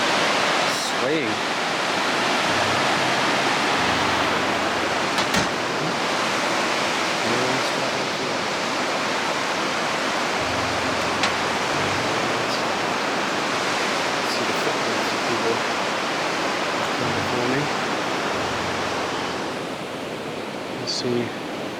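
A rushing river roars loudly and steadily below a metal footbridge in the dark, a dense, unbroken wash of water with occasional faint knocks.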